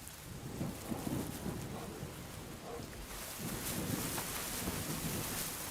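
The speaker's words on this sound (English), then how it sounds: "The rain has washed away the tracks." Steady rain pattering on the ground with low rumbling thunder rolling beneath it, the downpour swelling louder in the second half, heard alone without voices.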